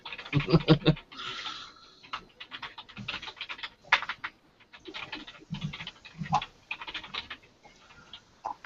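Someone types on a computer keyboard during a weekly live geek chat show, with irregular bursts of close, crisp keystroke clatter starting and stopping.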